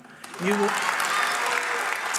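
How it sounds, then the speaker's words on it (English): An audience bursts into strong applause after a remark on school vouchers, with a voice finishing just before the sustained dense clapping fills the rest of the moment. "It's a lot of applause for a controversial issue"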